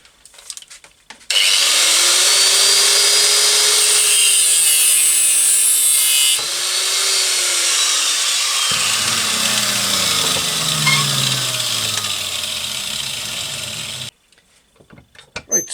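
A power tool cuts around a motorcycle's internal throttle liner to fit a ferrule, on a hardtail bobber restoration, a loud steady whine with shifting pitch running for about thirteen seconds before stopping abruptly.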